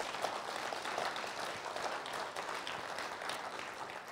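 A studio audience at a young entrepreneurs' pitching event applauds steadily, a dense continuous wash of clapping heard from a moderate distance with no voices over it.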